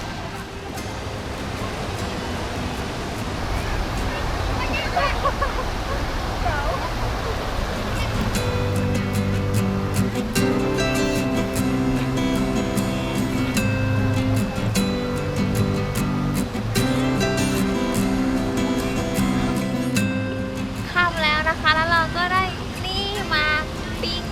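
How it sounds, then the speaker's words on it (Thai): A flowing stream runs beside a campsite at Khao Yai, giving a steady rushing wash of water. Faint music and other background sounds join it partway through. "นี่บรรยากาศแบบว่านอนติดริมน้ำนอนฟังเสียงน้ำไหล"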